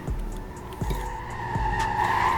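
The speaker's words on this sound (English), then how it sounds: "I'm just doing donuts right now" A car doing donuts gives a continuous, rising tire squeal over a low engine drone, with several short thumps spaced through the skid; it sounds close and fairly loud and carries no talk.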